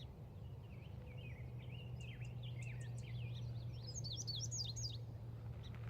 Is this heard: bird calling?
yes